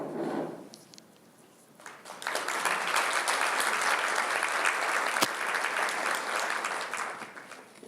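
At a prenatal and infant care luncheon talk, an audience breaks into warm, sustained applause. Clapping swells after a brief lull and keeps going evenly for several seconds.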